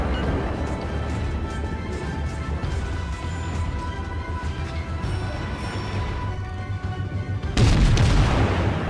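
Naval gunfire from warships in the World of Warships game, with deep booming salvos rumbling continuously and a sharper, louder blast near the end.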